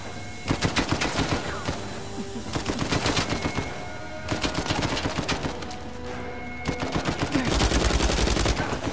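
A submachine gun fires in the video game Uncharted 4: A Thief's End in several rapid automatic bursts, loud and close, each burst a tight train of sharp cracks separated by short pauses.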